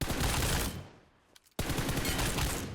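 Rapid bursts of rifle fire in the video game PUBG, loud and continuous, with a brief drop to near silence in the middle before a sharp resumption.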